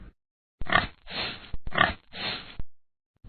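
Two grunting snorts from a pig, each a rough burst followed by a longer rumbling grunt, close and fairly loud against silence.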